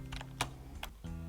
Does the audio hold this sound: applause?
no